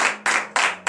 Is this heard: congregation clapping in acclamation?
yes